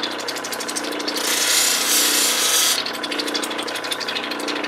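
A Lightning Ridge crystal opal being ground and beveled on a spinning lapidary wheel. A steady motor hum runs throughout, with a brighter, louder grinding hiss swelling for a couple of seconds in the middle.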